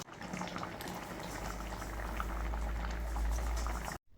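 Tapioca boils in a pot, a steady bubbling and gurgling of rolling water with a low rumbling base, close and continuous until it cuts off abruptly near the end.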